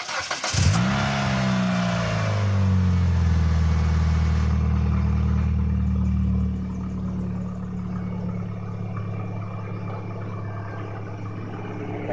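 A 1998 Mitsubishi Eclipse GS 2.0L four-cylinder engine without AC, fitted with a new serpentine belt, cranks and catches, revving briefly before settling into a steady, smooth idle heard up close with no talking.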